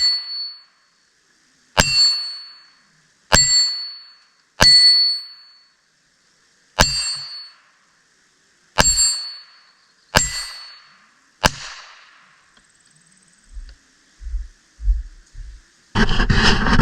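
Ruger Mark III Target pistol with a bull barrel fired at a steel target from about 40 feet: seven sharp shots spaced a second or two apart, each answered by a bright ringing clang, followed by faint handling sounds.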